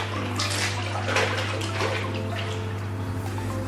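Water splashes and pours continuously from a jug onto the floor beside a 2000-litre aquarium, with sloshing bursts under a steady low hum, close and moderately loud.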